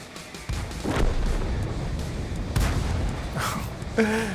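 Tank cannon fire from a T67 in the video game World of Tanks, several sharp booming shots in quick succession with rumbling tails, plus a short voice at the end.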